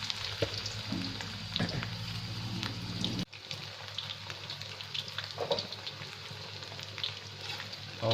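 Mushrooms deep-frying in a pot of oil, a steady close bubbling sizzle with scattered pops and occasional stirring clinks, continuing throughout without talk.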